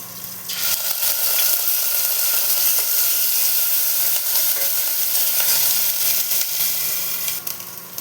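Chopped green chillies and garlic paste fry in hot oil for potato bonda filling, a steady close sizzle with occasional stirring scrapes throughout, no voices.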